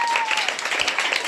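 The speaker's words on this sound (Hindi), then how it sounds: "जोरदार तालियां बजाइए इस प्यारी सी बच्ची के लिए।" An audience at a school play about Anandi Bai Joshi applauds a young girl, with a brief burst of dense, close clapping that stays steady throughout.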